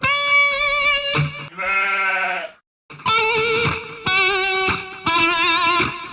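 A singer's voice imitates a nervous sheep bleat with a quivering vibrato, delivered in several loud, close sustained phrases separated by a brief pause.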